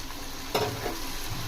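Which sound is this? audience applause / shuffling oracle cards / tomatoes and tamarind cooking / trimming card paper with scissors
tomatoes and tamarind cooking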